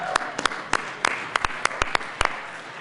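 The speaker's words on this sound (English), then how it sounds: "please join me in giving them a round of applause" Scattered handclaps ring out in a legislative chamber, a thin, short round of applause with distinct individual claps rather than a full ovation.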